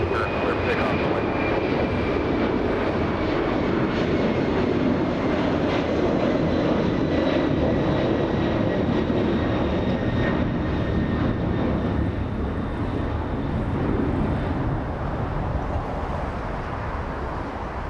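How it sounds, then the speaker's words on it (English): A Delta airliner bound for New York on its takeoff roll at Los Angeles International Airport, a sustained, loud jet engine roar with a faint whining tone sliding slowly downward across the pass. "Delta 670 on its takeoff roll."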